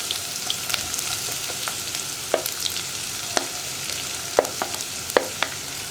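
Ginger, garlic and sliced onion fry in hot coconut oil in a pan, giving a steady crackling sizzle with scattered sharp pops and a few louder spatters, with no one talking.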